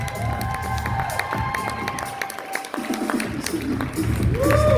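An audience at a fitness competition cheers and claps in a lively, uneven burst that fades briefly and then swells again, with voices shouting in the crowd.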